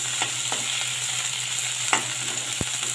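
Besan and yogurt masala curry stirred and fried in a pan, a steady soft sizzle with light scraping stirs and a sharp clink near the end, close and continuous, no talking.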